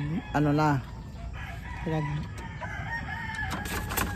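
A rooster crows loudly in a backyard chicken coop, with one full crow near the start and a shorter one after, while other fowl cluck and a faint voice murmurs in the background.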